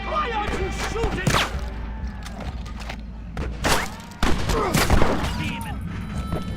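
In a Red Dead Redemption shootout, rapid gunshots crack and thud in irregular bursts, some close and loud, others further off, over a constant background rumble, with voices mixed in.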